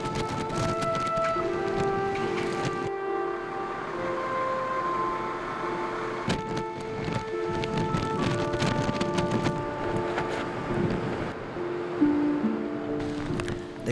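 Heavy typhoon rain pours steadily in Hong Kong, with rumbling thunder and a dense wash of noise throughout, loud and continuous with no talking.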